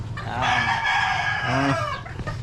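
A rooster at a gamefowl breeding and conditioning yard gives one long, loud crow close by, rising and holding before trailing off, with no talking.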